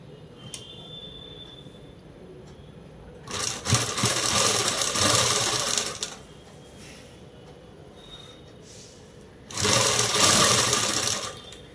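A sewing machine stitching a slippery cloth lining runs in two loud, rapid whirring bursts of about three seconds each, separated by a quiet pause, close up and without speech.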